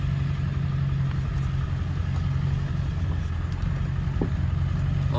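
A Honda ATC three-wheeler rolls through a yard, its engine giving a steady, close, low drone that holds an even pitch throughout with only slight surges.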